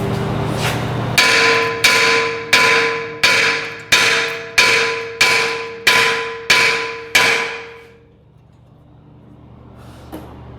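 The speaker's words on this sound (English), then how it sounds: "And then we're going to hit the face of the rotor." A hammer strikes the face of a Mercedes-Benz brake rotor, with a wheel stud threaded back in a couple of turns, landing nine evenly paced, ringing metallic blows close by before the sound falls quiet.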